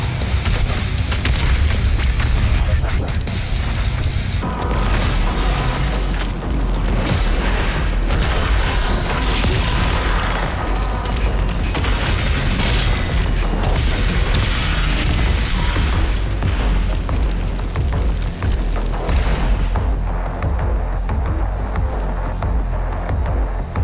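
The BFG 10,000 firing in DOOM Eternal, a sustained, heavy rumbling blast with deep booms and mechanical churning that stays loud and dense throughout with no talk over it.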